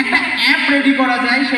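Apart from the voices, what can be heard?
No everyday noise stands out behind the speech.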